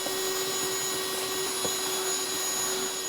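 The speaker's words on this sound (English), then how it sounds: "I'm going to vacuum all this up." A shop vacuum runs with a steady loud whine and drone, sucking up wood shavings from drilled holes in a cabinet door, with occasional small clatters as debris is pulled in.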